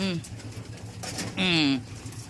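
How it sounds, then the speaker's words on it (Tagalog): Cooing pigeons or doves in a flock being fed, several soft calls rising and falling close by, with a person talking intermittently over them. "Yan yung mga ibon natin."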